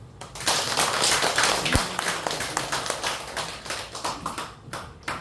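A church congregation claps at a worship service, a dense burst of many hands that starts strong and slowly thins out over several seconds, with no talking over it.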